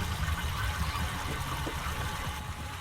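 Steady water rushing through pipes in the video game Myst VR, Channelwood Age: a continuous low roar with a trickling hiss, unbroken and fairly loud throughout.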